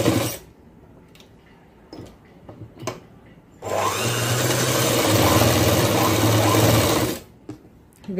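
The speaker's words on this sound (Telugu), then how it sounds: "ఇదే విధంగానే రెండో భుజం కూడా రెండు కుట్లు అనేవి వేసేసుకోండి" A sewing machine stitches the shoulder seams of a coat in one steady burst of fast, whirring, rattling running that lasts a few seconds, framed by quieter handling sounds before and after.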